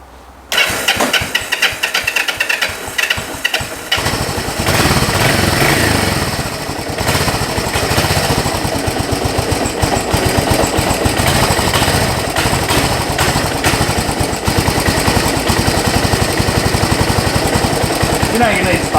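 A Yamaha SR250 motorcycle engine with a freshly fitted spark plug cranks and fires after a moment of near silence, then runs loud and steady with a dense, uneven single-cylinder clatter throughout.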